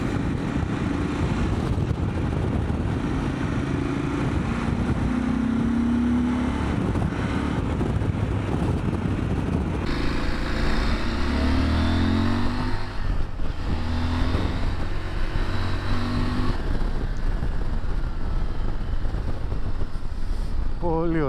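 A CFMOTO 1000MT-X motorcycle engine hums and revs while riding, with shifting pitch under heavy wind rush, continuous and fairly loud; a rider talks intermittently over it.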